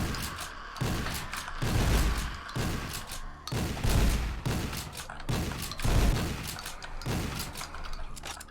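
Repeated shotgun blasts in the video game Project Warlock, about one heavy boom per second over a dense, noisy game soundscape, each shot with a low thump and bright crack.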